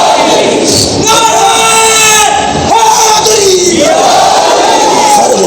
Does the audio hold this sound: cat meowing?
no